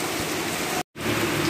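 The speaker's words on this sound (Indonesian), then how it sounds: "Tapi sudah hujan gini guys." Steady rain pouring down outdoors on a street where a motorcycle is parked, a dense continuous hiss that briefly cuts out for a moment midway.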